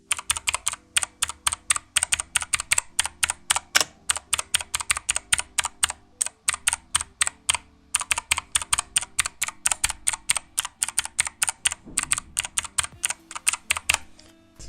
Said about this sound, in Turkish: Mikrofonumu şimdi klavyeye yaklaştırıp tuş seslerini sizlere dinleteceğim.